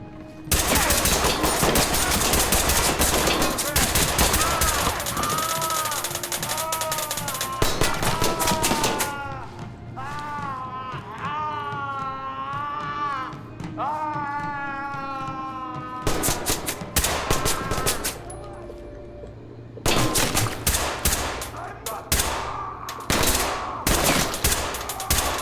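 Heavy video game gunfire at Russians, long loud bursts of automatic shooting at the start and again toward the end, with a quieter musical stretch between.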